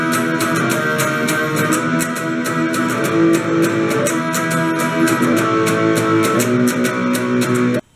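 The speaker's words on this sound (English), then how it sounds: "Now let's take a look at what the rhythm guitar is playing during the solo, and that should sound like this." Electric rhythm guitar plays the rhythm part under the solo section of a song, with regular strummed chord hits in a steady rock rhythm, loud and close, and no voice before it stops abruptly.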